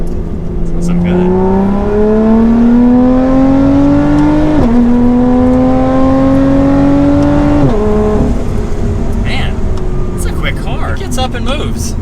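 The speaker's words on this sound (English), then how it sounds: "let's do another acceleration" Lotus Evora 400 accelerating hard, engine pitch climbing steadily through two gear changes with brief dips at each shift, loud and close from inside the car with no talk.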